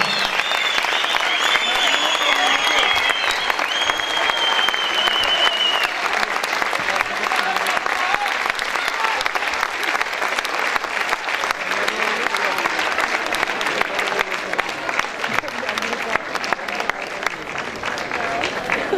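Sustained audience applause at the end of a concert, a loud, dense and steady clapping from a large crowd that continues throughout, with a few voices faintly audible within it.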